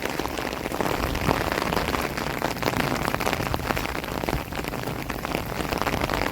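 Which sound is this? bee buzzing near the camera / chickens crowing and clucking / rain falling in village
rain falling in village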